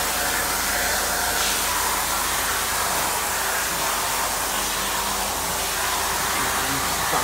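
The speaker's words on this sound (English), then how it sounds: "And by the time it gets to the top of the conveyor, it'll just drop out into a parts bin." A KCB-113 incline conveyor with a rigid PVC belt runs continuously, giving off a steady, loud broadband whir with no breaks.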